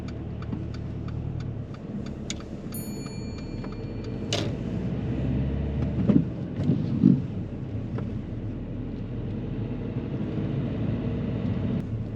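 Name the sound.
car driving off during a driving lesson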